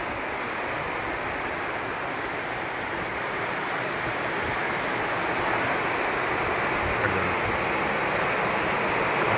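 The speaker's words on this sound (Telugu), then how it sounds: "గాలితో కూడిన వర్షం అయితే పడుతుంది" A dense, steady roar of heavy rain mixed with gusting wind in Nalgonda, loud and continuous throughout with no voices.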